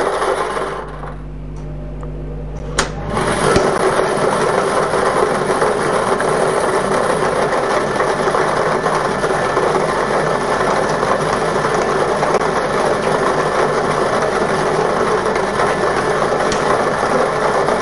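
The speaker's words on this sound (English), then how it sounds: "The balls are released from the staging tube into the chamber." A lottery draw machine for a midday double draw releases balls from a staging tube into its chamber, and they tumble in a steady, loud mechanical whir of rattling and air that carries on without a break, with no talk.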